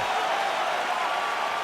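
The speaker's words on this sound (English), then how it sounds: "And look at the crowd showing appreciation for the heart of these two" Arena crowd at a UFC bout between Conor McGregor and Max Holloway, applauding and cheering after round one as a steady, dense wash of clapping and crowd noise with no breaks, fairly distant.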